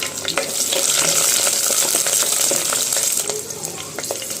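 A South Indian tempering of mustard seeds, cumin, fenugreek, garlic and dried and green chillies sizzles steadily in hot oil for sambar, with scattered small pops and crackles and stirring, loud and close, with no voices.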